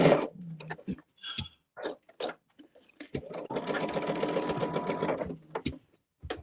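A sewing machine stitches quilt blocks in short bursts and then one longer steady run of rapid whirring. Quiet talk and handling noises come in between the runs.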